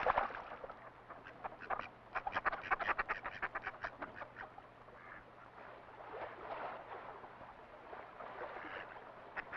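Mallard ducks quack in rapid, rhythmic bursts on a flooding river, loud and close at first, then easing into looser, softer calls over a faint low steady hum.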